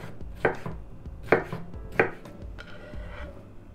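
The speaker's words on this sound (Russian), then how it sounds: "огурец порежем кубиком" Knife chopping cucumber into cubes on a board for a salad: three firm, distinct chops spaced about a second apart, then a few softer taps, with no talking.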